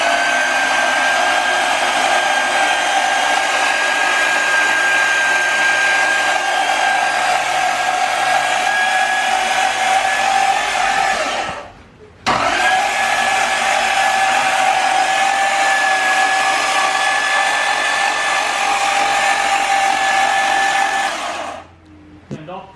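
Toyota 1UZ V8 engine swapped into a Cressida being spun over, a steady high whirring drone that cuts off briefly midway, resumes, then stops near the end.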